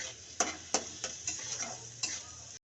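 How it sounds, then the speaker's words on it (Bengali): Meat masala, turmeric and salt sautéing in a pan, a soft sizzle under a handful of sharp spoon taps and scrapes against the pan, close and fairly quiet. "হলুদ, পরিমাণ মতো লবণ, এটা দিয়ে ভালো করে কষিয়ে নেব।"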